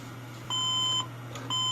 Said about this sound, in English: As soon as I press OK, it starts beeping again.